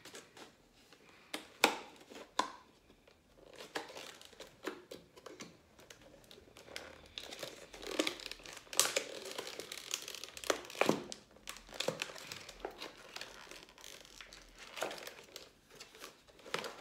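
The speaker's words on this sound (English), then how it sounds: "I just use the scissors or use it like this to open it." Scissors and hands work at plastic food packaging, producing a long run of faint crinkling, rustling and sharp snipping clicks, irregular and close, with no talking.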